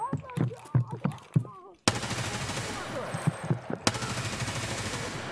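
Rapid gunfire during a video game fight with Glukhar, dense repeated shots and bursts close up and loud, continuing almost without pause, with voices talking briefly among the shots.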